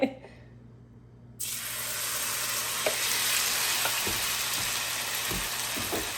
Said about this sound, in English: All I did was heat up some grease and put my mixture in there, and I'm gonna let it cook maybe 5 minutes on one side